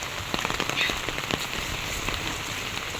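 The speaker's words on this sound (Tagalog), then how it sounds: "Nagsilong po at medyo po malakas-lakas nga yung ulan." Heavy rain pours steadily outdoors, a dense hiss with scattered sharper drops pattering on nearby surfaces, with no voices.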